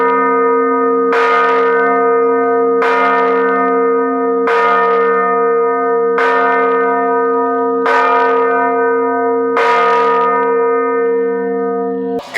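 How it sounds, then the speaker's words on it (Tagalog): A huge church bell, among the largest in Southeast Asia, tolls at noon in Roxas City near the Alcatraz ruins: six loud, evenly spaced strikes about every two seconds, each leaving a long, rich humming decay. "sa sobrang lakas ng tunog ng bell nito ay umaabot ng 8 kilometers away"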